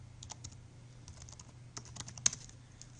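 Light clicks of a computer keyboard as a short command is typed, scattered quiet keystrokes with one sharper tap near the end, over a low steady hum.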